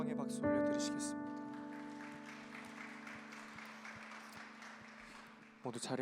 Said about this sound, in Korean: 주님께 영광의 박수 올려드리시겠습니다.